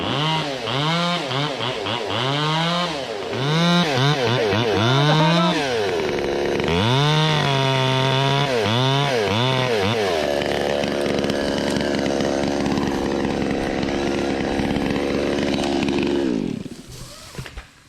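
A chainsaw cuts into a tree top, its engine revving up and down in repeated surges before settling into a long, loud, steady roar that drops away at the end.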